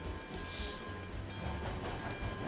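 A small locomotive rolls along the track in the RailRoads Online game, a continuous rumbling chug with rhythmic low clatter, steady and fairly close with no talking.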